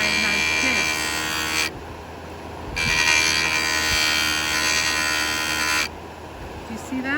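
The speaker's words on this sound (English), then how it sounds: "The only way to get rid of it, and I have to grind it again." Electric JOOLTOOL grinder running steadily as it grinds a pitted 75-year-old chisel, a loud continuous buzzing whine that drops out briefly twice as the blade is lifted, with talk underneath.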